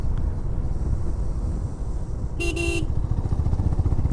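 A car horn on a mountain road gives one short honk of about half a second, fairly near, over steady engine rumble and wind noise.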